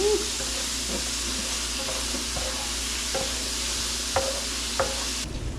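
Onions fry in a pot for sandbar chicken, a steady close sizzle and hiss with occasional scraping stirs and a few sharp clinks of utensil against metal.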